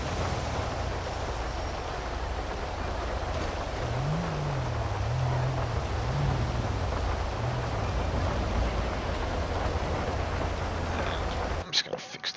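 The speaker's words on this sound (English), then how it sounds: "Especially in the rain." Steady rain in Grand Theft Auto V keeps a constant hiss throughout, with a low engine hum and a faint rising and falling tone beneath it, then ends in a few abrupt clicks.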